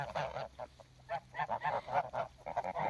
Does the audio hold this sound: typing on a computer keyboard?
no